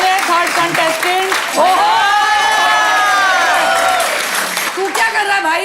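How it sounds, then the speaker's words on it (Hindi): An audience at a talent show claps and cheers for a contestant, a loud crowd with whoops and shouting, and a voice speaking over it. "थैंक यू ममता के लिए जोरदार तालियां हो जाए"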